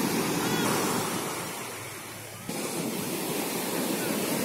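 Steady roar of ocean waves washing onto Pantai Cermin beach at sunset, a continuous broadband surf wash that dips briefly then swells back, with some wind noise and no clear talking.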